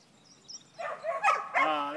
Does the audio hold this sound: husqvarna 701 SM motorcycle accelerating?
no